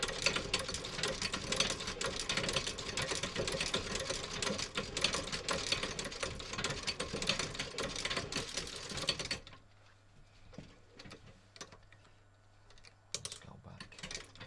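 A cobbler's foot-treadle stitching machine sews a golf shoe during restoration, a fast dense mechanical rattle of needle strokes running steadily for about nine seconds, then stopping, leaving a quiet room with faint scattered clicks and handling.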